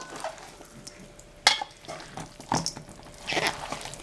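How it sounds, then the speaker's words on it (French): Salad servers stir a potato and endive salad in a bowl, making soft irregular scraping, clinking and moist tossing sounds, close by and quiet, with a few sharper knocks. "Et on remue."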